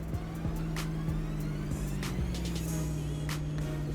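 A farming-game truck engine heard from inside the cab, a steady muffled low hum with a faint drone and slight shifts in pitch, continuous and without talk.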